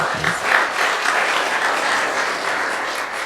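A school audience at a Year 11 music and drama show gives a round of applause, dense continuous clapping filling the hall, steady and fairly loud throughout.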